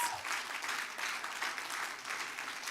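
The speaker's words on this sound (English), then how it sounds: "I'm inviting you to give them a resounding round of applause" An audience at a Human Rights Week event gives sustained applause, the dense clapping swelling and easing in waves without pause.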